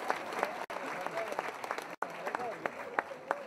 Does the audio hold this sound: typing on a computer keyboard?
no